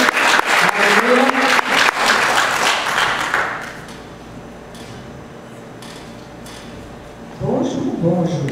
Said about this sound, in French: on peut donner une bonne main d'applaudissement de ce que Dieu fait